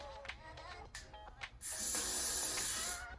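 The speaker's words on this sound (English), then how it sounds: "I'm gonna just put some freeze spray on that first one." Freeze spray hissing onto very short natural 3c/4a hair during a no-part slick back, a steady close burst of roughly a second and a half following a few faint clicks and handling noises.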